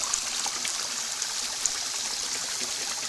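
Steady trickle and splash of a small waterfall spilling into a backyard garden pond, close and continuous with faint droplet clicks, no talking.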